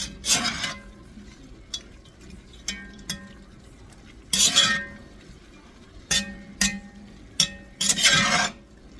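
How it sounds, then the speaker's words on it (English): Bacon and sausage being stirred in a pan for cowboy spaghetti, with intermittent scraping clinks of a utensil against the pan in short irregular bursts over a quiet background. "Then you take your bacon and your sausage, throw it right back in there and get it all nice and mixed up."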